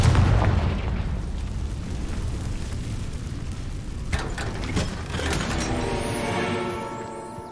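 A Confringo fire spell exploding in the video game Hogwarts Legacy, a loud sustained booming blast with rumbling low-end, then crackling burst-like debris near the end.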